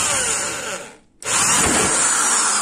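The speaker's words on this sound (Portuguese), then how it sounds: "E devagar você vai acionando aqui a furadeira." Electric drill with a sharp bit boring out a rivet on a stove oven part, a loud steady whine that cuts out briefly around the one-second mark and then resumes at full strength.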